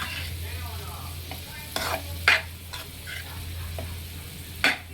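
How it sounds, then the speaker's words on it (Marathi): Boiled hakka noodles stirred into sauces in a hot pan: a handful of sharp spatula scrapes and clacks come at irregular intervals over a faint, steady sizzle and a low hum, close by. "आता आपण यामध्ये ॲड करणार आहोत बॉईल केलेले नूडल्स. फिरवते ह्याला."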